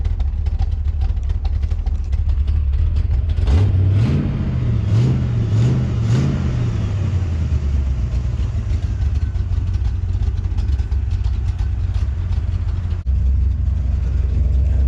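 A 1966 Oldsmobile Toronado engine idles with a low, steady rumble, then revs in a quick series of rising and falling blips before settling back to a loud, constant idle.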